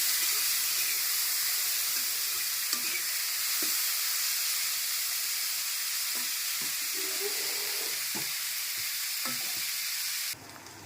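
Ginger and chili sizzle loudly and steadily in hot oil as a tempering for a ponk dish, with occasional light stirring knocks, before the sizzle cuts off abruptly.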